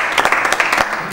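Brief scattered clapping from an audience at a volleyball television program, a few sharp claps over a short stretch, fairly close and moderately loud.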